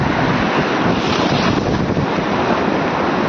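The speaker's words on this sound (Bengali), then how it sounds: "অলরেডি কিন্তু ঢেউ অনেকটা কাছাকাছি চলে এসছে" Sea waves at Gangasagar washing ashore, a dense continuous roar of surf mixed with heavy wind buffeting on the microphone, loud and steady with no voices.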